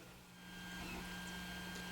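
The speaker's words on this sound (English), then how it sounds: "So our printer is now starting to function." A 3D printer starts up with a steady mechanical whir and hum, carrying a faint high tonal whine and some low motor buzz.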